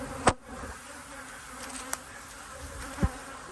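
Honey bees around a hive with an added honey super, giving a faint, steady buzz with a few brief louder passes close by.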